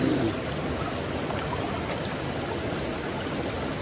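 Cold water of the Rivière Rouge in Guadeloupe rushes steadily over rocks, a dense, continuous broadband roar up close with no voices.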